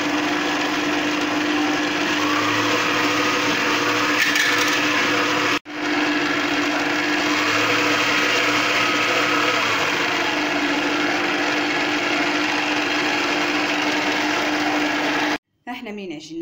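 A stand mixer kneads pizza dough made with yeast, a spoon of sugar and thyme, giving a steady whirring motor drone that runs nearly the whole time with a brief break midway and stops near the end.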